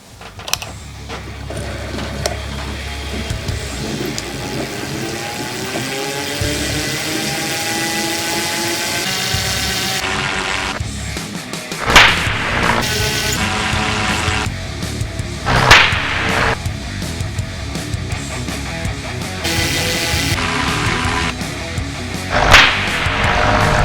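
A Wimshurst electrostatic machine running during experiments, giving a continuous mechanical whirring drone with rising and falling pitch, punctuated by several sharp, loud cracking spark discharges.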